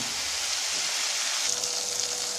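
Vegetables for a paneer masala gravy sauté in hot oil in a pan, making a continuous close sizzling hiss that shifts slightly halfway through, with no talking.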